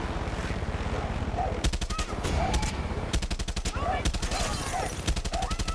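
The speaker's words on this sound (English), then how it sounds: "We got a guy below us shooting us." Automatic gunfire in Far Cry 6 co-op play, rapid machine-gun bursts rattling in several strings at close range, with voices talking over the shooting.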